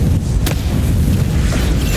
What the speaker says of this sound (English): I'm loving throwing grenades at her.